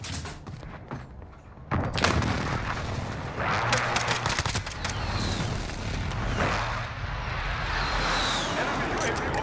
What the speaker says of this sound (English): Precision airstrike on the way.